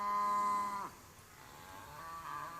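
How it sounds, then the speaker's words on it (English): A single long, loud moo from cattle on a large dairy farm as a herd of around 3,000 cows is moved between fields, the call close and fading after under a second into quiet farm ambience. "Just letting the cows through."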